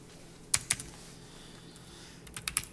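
Light typing on a computer keyboard, a few soft key clicks in small clusters near the start and end, close but quiet over a faint background hum.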